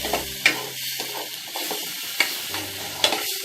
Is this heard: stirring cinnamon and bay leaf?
yes